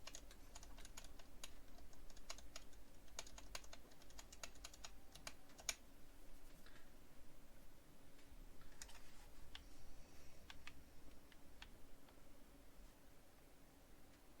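Computer keyboard typing while building in Fallout 4: quick, irregular key clicks and taps at close range, spread through the whole stretch over a soft background hiss.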